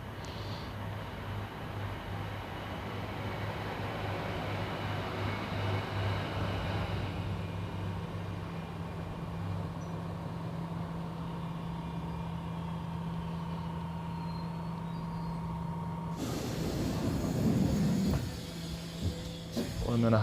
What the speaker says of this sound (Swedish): Här kommer ju tåget och det är faktiskt en ER1.